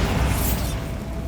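A Bombarda blasting spell goes off in Hogwarts Legacy, a loud broadband burst with a deep low rumble that swells and then fades over about a second, with no talk.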